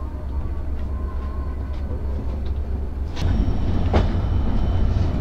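The Banalata Express pulls out of Chapainawabganj railway station, heard from inside a coach as a steady low rumble that grows louder partway through, with a clank and light rattles over it.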